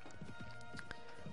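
Horse hooves clop while riding in Mount and Blade Warband, a few faint, close thuds over quiet game ambience.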